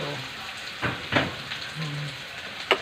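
Garlic frying in a pan gives a soft, continuous sizzle, with a few sharper scrapes and clatters from stirring near the start and end.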